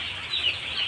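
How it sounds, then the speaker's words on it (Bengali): Chicks in a poultry farm shed chirp faintly in a short burst of high, thin peeping, with a soft background hum and no voices. "এই যে সব মুরগির বাচ্চা সব রাখা আছে।"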